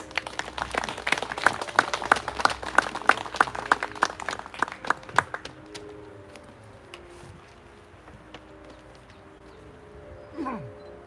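A crowd at an outdoor Korean memorial rally for a labor activist claps in a brisk, scattered burst that thins out after a few seconds and fades into quiet background noise.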